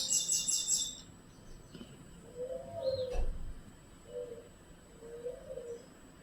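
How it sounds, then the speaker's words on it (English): Birds call outdoors: a burst of high chirps at the start, then several soft, low cooing phrases spaced apart, moderately distant over faint background hiss. "The birds have been chirping and doing their thing, you know."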